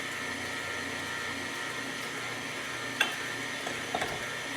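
An electric mixer whirs steadily while beating eggs and butter in a bowl, a constant mid-level hum with a couple of sharp knocks near the end.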